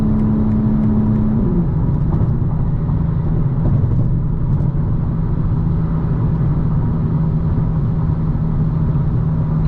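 A 2025 BMW M4 Competition xDrive drives along a road, heard as a loud, steady low engine and road rumble from inside. The engine note drops slightly a moment in, then holds an even cruising drone.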